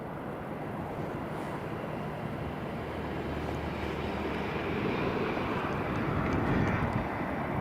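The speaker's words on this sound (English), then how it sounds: "EasyJet just coming in on the approach." An EasyJet airliner on landing approach gives a steady, broad engine roar that swells slightly louder as it nears, heard from a distance in gusty wind.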